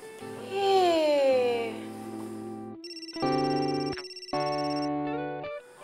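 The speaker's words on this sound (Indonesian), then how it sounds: "Telepon dari siapa tuh?" Phone ringing in an Indonesian TV drama scene, an electronic ringtone melody of stepped tones, fairly close and clear, with no speech over it.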